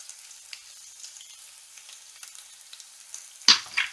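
Faint sizzling of tomato paste frying in a dry curry paste, with soft crackles throughout and a brief louder burst of spitting near the end.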